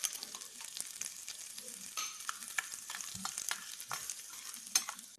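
Chopped chillies and onions sizzle and crackle in a pan for vermicelli upma, with steady frying hiss and occasional stirring scrapes, close and moderately loud, no talking.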